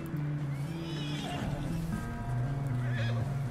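Horse whinnying in the game Red Dead Redemption 2, a loud, close neigh with wavering pitch, joined by hoof clops and steady background game sound.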